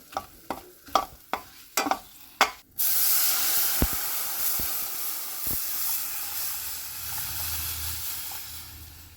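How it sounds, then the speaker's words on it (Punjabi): Gram flour batter for Punjabi cabbage kadhi is poured into a hot pan after a few sharp clinks, erupting into a loud, steady, continuous sizzle that holds for several seconds with occasional faint taps. "ਲਓ ਜੀ ਆਪਾਂ ਨੇ ਬੇਸਣ ਦਾ ਤਿਆਰ ਕੀਤਾ ਹੈ ਘੋਲ ਪਾ ਦਿੱਤਾ ਏ"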